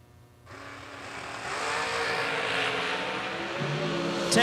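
Hot rod drag cars race at a drag strip event, their engines roaring in at once and swelling into a loud, sustained, rising howl that stays strong to the end.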